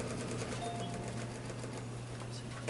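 A sewing machine with an open-toe foot stitches a scalloped edge, a faint, fast, even mechanical whir and ticking that runs steadily throughout.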